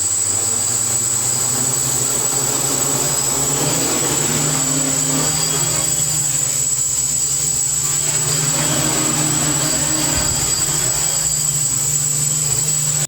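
An FPV quadcopter's motors whine and buzz continuously while it hovers on a stick-mounted PID tuning stand, a loud steady drone with a high tonal whine and slight shifts as the throttle changes.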